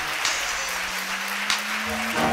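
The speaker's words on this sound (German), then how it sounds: "Stefan Marx begrüßt ihn mit einem herzlichen Applaus" Warm applause greets Stefan Marx, a drawing artist, at an evening event: steady broadband clapping fills the whole stretch at moderate level, with a sustained tone running beneath it.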